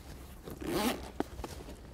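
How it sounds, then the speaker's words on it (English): Heavy-duty chunky zips on a hardcore-range all-in-one rig station tackle bag being pulled open, a close, rasping zip run of about half a second followed by a sharp click and a few smaller rattles. "Nice chunky zips again, as with all the other hardcore stuff."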